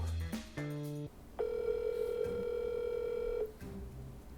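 A telephone call connects: a few short dialing tones come first, then a long steady ringback tone sounds clearly for about two seconds before it cuts off, with no talking.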